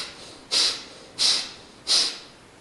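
Three forceful nasal exhalations pushed with the nasal muscles during pranayama breathing, evenly spaced, sharp, hissing and close, with quiet breathing in between.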